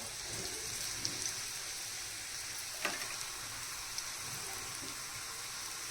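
Kothimbir vadi, coriander fritters, shallow frying in a pan with little oil, a soft, steady sizzle like light rain, with a few faint pops and taps of a utensil.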